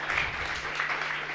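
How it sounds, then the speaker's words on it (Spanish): Applause from a chapel congregation after a live Mass during a novena to Mary Help of Christians, a steady, moderately loud wash of clapping that carries on evenly through the short moment. "fuerte aplauso."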